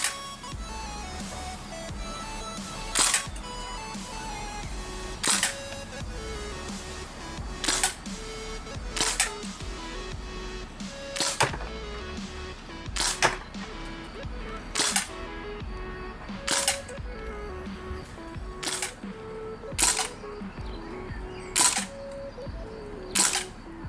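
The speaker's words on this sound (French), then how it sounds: "c'est parti pour la troisième série de tirs" Rifle shots from a DPMS SBR fired at a target roughly 13-14 metres away, about a dozen sharp reports spaced a second or two apart over steady background noise, without talk.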